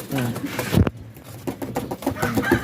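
Pigeons cooing and fluttering close by, mixed with other bird calls and a voice speaking over them.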